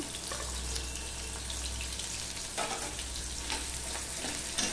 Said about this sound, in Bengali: এবার আমি পেঁয়াজটা ভেজে নিচ্ছি